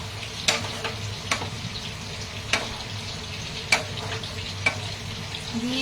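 Cashew paste sizzles steadily in a pan for nargisi kofta, with a spoon scraping and tapping the pan every second or so over a constant close fry.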